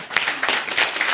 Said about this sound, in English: To clap, just clap.